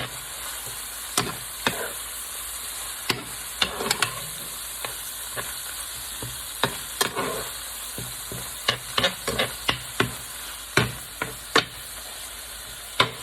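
Fideo noodles browning in a hot pan, a steady close sizzle of frying broken by repeated sharp clicks and scrapes as they are stirred.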